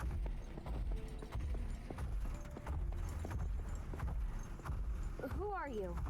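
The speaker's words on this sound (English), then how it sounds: "is that a horse or it's a strange animal?" A horse's hooves clip-clop in a Spartan-themed video game, a steady run of light hoofbeats with a brief whinny near the end while a voice talks over it.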